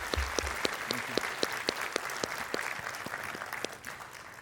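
Audience applause at a commencement ceremony welcoming White House representatives, a moderate, steady patter of many hands with distinct individual claps, heard at some distance throughout.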